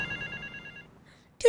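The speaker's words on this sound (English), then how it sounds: "here is the phone. It started ringing." Telephone ringing in the video game GTA Vice City, a steady electronic ring tone that fades into quiet, followed by a louder burst at the end.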